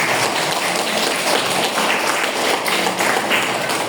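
Students clapping in a classroom during a sociology lesson, a close, loud burst of dense, uneven handclaps that carries on for several seconds.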